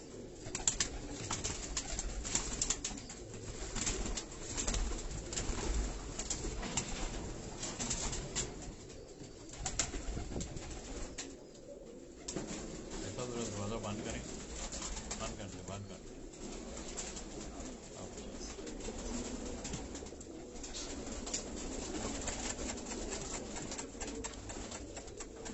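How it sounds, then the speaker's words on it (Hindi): Rani breed pigeons, a champion fancier's favourites, coo repeatedly in a soft continuous burble, with rustling and occasional wing movement nearby. "रानी वाली ब्रीड के नाम से हाजी साहब के वो पसंदीदा कबूतर हैं"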